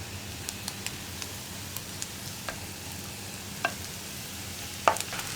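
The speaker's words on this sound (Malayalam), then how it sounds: "ഇനി ഉരുളക്കിഴങ്ങും ചേർത്ത് നന്നായിട്ടൊന്ന് ഇളക്കി മിക്സ് ചെയ്യുക" Mashed potato samosa filling is stirred in a pan, soft scraping under a low sizzle with a few sharp spoon clicks against the pan, quiet and close, no talking.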